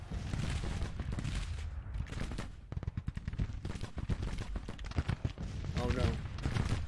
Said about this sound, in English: And they're opening fire.